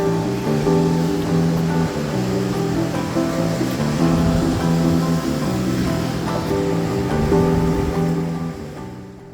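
Heavy surf crashes during a peak king tide on the Oregon coast at Depoe Bay, a loud, continuous roar of breaking waves with steady rumbling power and no voices.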